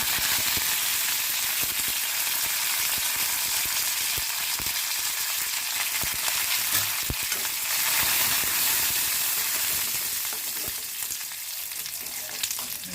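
Dried red chillies and curry leaves fry in hot oil for a yellow pumpkin stir-fry, a continuous loud sizzle with scattered pops and occasional clinks of stirring throughout.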